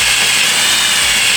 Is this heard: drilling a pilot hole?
yes